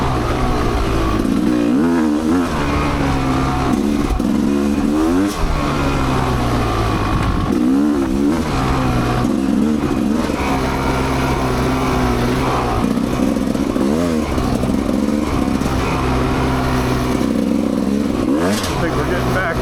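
An off-road motorcycle engine drones and revs continuously on an ORV trail through deep loose sand, with throttle swells repeating every couple of seconds, loud and close throughout.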